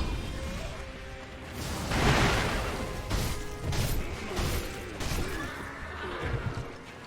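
Horse in Sekiro: Shadows Die Twice gives a loud, close whinny in the middle, with softer rustling game sounds and faint thumps around it.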